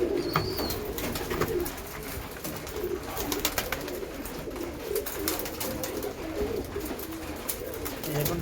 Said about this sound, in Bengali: এখন পায়রা সব কত মজা করে খাচ্ছে।